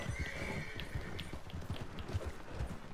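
Horses in the Red Dead Redemption 2 video game clop along in a steady, fairly close rhythm of hoofbeats over a constant outdoor ambience, with a soft snort and no talk.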